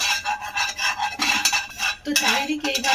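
A brush spreading oil around a hot kadai: quick, close, rasping strokes against the metal, coming in short repeated bursts with a faint sizzle underneath.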